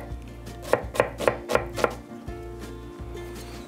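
A knife chopping Ptuj red onion on a board, five crisp close strikes in an even rhythm followed by quieter cutting and scraping, with no talk.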